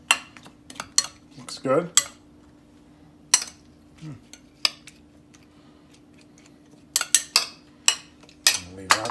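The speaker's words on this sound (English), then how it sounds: "Just give it a little stir." A utensil stirs ginger-marinated grass-fed steaks in a bowl in a home kitchen, making sharp intermittent clinks and scrapes against the dish, with a brief spoken comment partway through.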